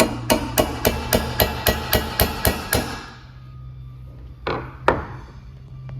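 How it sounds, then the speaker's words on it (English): A small hammer taps a bolt on a motorcycle head pipe P-clamp in a quick, even run of about eleven sharp strikes, then pauses before two more isolated knocks. "I have this super small little Harbor Freight hammer here, and we're just gonna tap it in"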